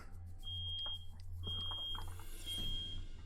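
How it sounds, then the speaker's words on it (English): A high electronic beeping like a smoke alarm sounds in a home, repeating in short sustained tones over low background hum, moderately near. "I'm gonna go see what the beeping is."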